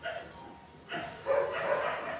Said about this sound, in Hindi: अब कुत्ते शुरू हो गए।